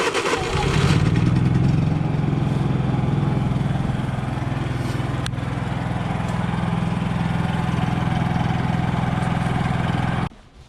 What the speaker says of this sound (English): So let's go ahead and warm up the engine.